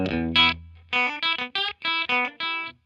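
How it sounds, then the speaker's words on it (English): Distorted electric guitar through a delay pedal plays a short choppy phrase of clipped notes, each followed by a quick echoing repeat. "I think that's a really cool delay."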